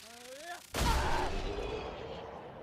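An overcharge ability attack in the video game Clair Obscur: Expedition 33 lands as a sudden loud explosive blast that rolls into a sustained roaring, rumbling wash. It follows a short rising musical or voiced tone.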